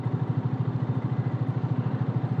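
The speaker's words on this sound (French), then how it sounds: "ça fait un bruit bizarre la voiture." A car engine running roughly with a strange fault, having trouble starting, chugs with a steady, rapid pulsing throb that repeats evenly throughout, heard up close with faint clatter and no voices.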